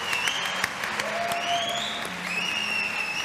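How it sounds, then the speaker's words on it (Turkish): Big round of applause from a television studio audience on a Turkish style show, steady dense clapping throughout with faint whistles or cheers rising over it. "Kocaman bir alkış rica edebilir miyiz lütfen?"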